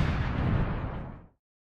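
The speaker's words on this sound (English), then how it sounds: "The explosion ruined the crepe." A loud, close explosion sound effect bursts out during a crepe-making cooking segment, a dense rumbling blast that holds for about a second before cutting off abruptly into silence.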